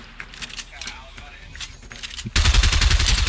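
Fortnite gunfire in a 4v4 zone wars match: scattered shots and clicking under excited shouting, then a sudden loud, sustained rapid burst of fire that fills the last second.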